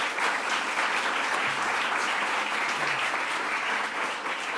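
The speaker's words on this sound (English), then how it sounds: "Let's give a round of applause to our elected leaders." Continuous, full applause for elected leaders at an event with a New York governor, a dense wash of many hands clapping at a steady, loud level throughout.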